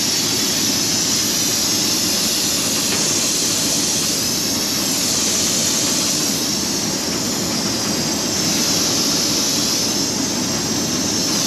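Pressurized nitrogen rushes out of an air conditioning system in a loud, constant roaring hiss that holds steady and close throughout, with no voices.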